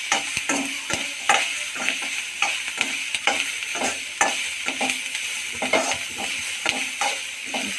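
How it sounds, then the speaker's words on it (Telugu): Vegetable pieces fry and sizzle steadily in a pan for veg pasta, with repeated close stirring scrapes and clinks over the continuous hiss. "5 minutes ముక్కలు బాగా వేయించి"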